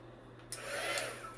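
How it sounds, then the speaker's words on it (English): A heat gun switches on and blows over resin in a silicone cup, a sudden soft roaring whoosh of air that holds steady and fairly faint. "break out the heat gun."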